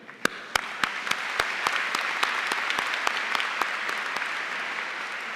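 Applause from a high school commencement audience in a large venue, with scattered sharp individual claps standing out over a steady wash of clapping.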